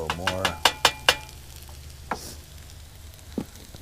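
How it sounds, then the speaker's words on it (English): Hash browns fry in a pot over a campfire with a faint, steady sizzle beneath a few sharp metallic clinks and scrapes of a utensil against the pot. "I'm going to let this bottom side cook a little more."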